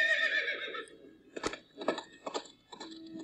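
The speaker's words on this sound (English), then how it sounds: "Wait, it's a horse." A cartoon horse neighs with a high, bright whinny that trails off, followed by a few short sharp clip-clop-like hits and thumps.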